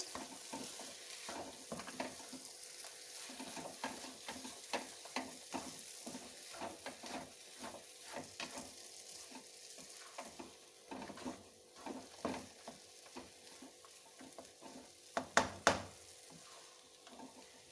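Semolina halwa with dry fruits is stirred in a pan, a quiet run of irregular scraping strokes over a soft sizzle, ending with a couple of sharper clinks against the pan.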